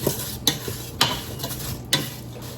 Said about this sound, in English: I'm going to cook these medium low for about 5 or 6 minutes, or until my apples are softened